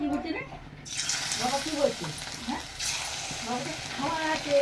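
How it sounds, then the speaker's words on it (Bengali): Fish coated in gram-flour batter with rice flour, salt, turmeric and chili crackles in hot oil at a fair stall, a moderate sizzle with bubbling bursts under nearby chatter. "গরম তেলে দেয়া আছে নোড়ালা মাছ"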